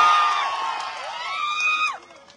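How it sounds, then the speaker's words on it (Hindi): Crowd at a political rally cheers and whoops with loud, rising shouts and applause, swelling and then cutting off abruptly near the end. "जोरदार तालियों से"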